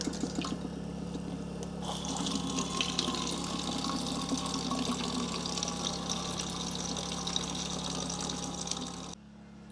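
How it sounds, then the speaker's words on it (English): A small USB-powered electric water pump fills gallon jugs at an off-grid site, a steady close rush and gurgle of flowing water over a low pump hum that stops abruptly at the end. "what I use is just this electric pump right here,"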